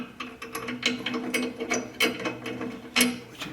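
Ratcheting clicks from tightening a new nut on a DR Pro 400 chipper blade, quiet and close, with irregular bursts of mechanical clatter and clicks.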